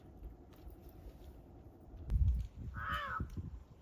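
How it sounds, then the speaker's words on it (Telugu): A single crow caws once from a moderate distance over quiet outdoor background noise, preceded by a soft low thump. "కాకి ఏదో అయ్యింది అక్కడి నుంచి కేకేస్తుంది"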